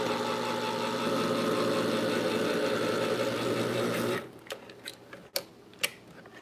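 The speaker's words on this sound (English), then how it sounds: "Get my can opener going here." An electric can opener in a home kitchen runs with a loud, steady mechanical whir for about four seconds, then cuts off, followed by a few sharp clicks and clanks of the can.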